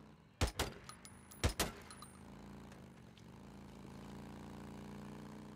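A motorbike engine rumbles behind the player in the video game Days Gone, a steady low drone that swells slightly after two sharp clanking hits near the start.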